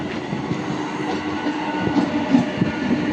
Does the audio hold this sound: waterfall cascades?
no